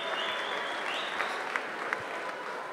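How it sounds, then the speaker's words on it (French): Audience applause at a charity gala, a steady wash of many hands clapping throughout, fairly soft and even with a few sharper claps standing out. "je vous demande de l'applaudir très fort, Carole"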